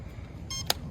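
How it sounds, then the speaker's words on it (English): A short electronic beep from a Lego RC Formula 1 car sounds briefly, followed by a sharp click, against a quiet low hum. "Once you hear the beep, you should be good."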